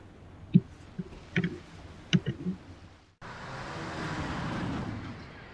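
A car in the video game Alan Wake: a few sharp clicks, then a steady, fairly loud engine and road rumble that starts abruptly and holds to the end, with no talking.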